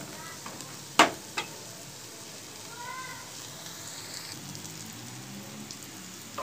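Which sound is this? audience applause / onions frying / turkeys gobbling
onions frying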